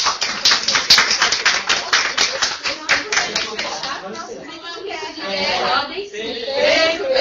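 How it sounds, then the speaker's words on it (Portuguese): Several people clap together during an online breastfeeding webinar, a rhythmic run of distinct claps over a few seconds that fades into voices and light chatter. "E a gente só agradece e aplaude vocês."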